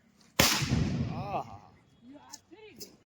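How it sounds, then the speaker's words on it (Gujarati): A single loud Diwali putli bomb firecracker bang bursts out and rings off briefly, followed by people talking nearby. "હલો મિત્રો, પુતળી બોમ્બ નો અવાજ."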